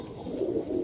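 Domestic high-flying pigeons in a coop coo softly and steadily, a low murmuring drone that swells slightly toward the end, close by with no talk.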